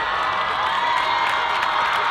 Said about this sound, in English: Let's give a big round of applause to Javier Garcia and Camille Hernandez from Santa Paula